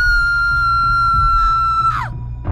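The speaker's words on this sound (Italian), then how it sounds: "l'urlo di un bambino diventa sempre più forte, più terrificante e vicino" A child's scream in old-version Minecraft, tied to the orphan myth: one long, loud, sustained high shriek that bends sharply downward and breaks off at the end over a low rumble.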